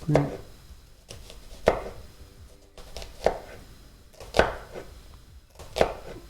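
A knife finely minces vegetables on a cutting board, with sharp, evenly spaced chops landing about once a second over a quiet background.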